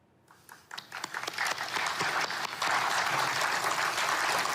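Audience applause greets the formal signing of the Gaza Peace Board document. It starts with a few separate claps after a brief hush, then swells into sustained, dense clapping from a large crowd.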